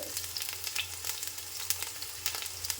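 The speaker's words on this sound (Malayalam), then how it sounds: "ഉള്ളിയിൽ കുറച്ച് വെള്ളം ഉണ്ടായി അതാണ് ഈ പൊട്ടിത്തെറിക്കുന്നത്" Sliced onions and halved garlic cloves frying in a hot pan for a coconut-milk mutton roast, with water in the onions making a steady close sizzle broken by frequent sharp crackles and pops.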